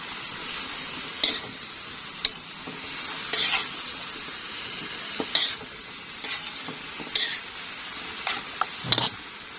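A utensil stirs food in a cooking pan, making irregular metallic scrapes and taps over a soft, continuous sizzle close at hand.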